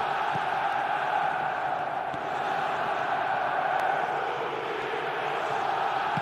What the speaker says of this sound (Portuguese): escuta só esta torcida. Eles vão apoiar o time o tempo todo